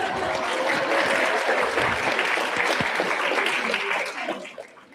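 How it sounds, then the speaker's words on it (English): A lecture audience gives sustained, fairly loud applause for a speaker at a feminist talk event, the dense clapping fading away in the last moment. "So let's clap for Elizabeth."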